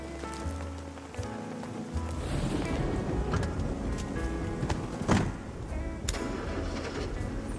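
Rain falling steadily with a continuous hiss and scattered droplet patter, fairly soft and constant, a few sharper splashes standing out.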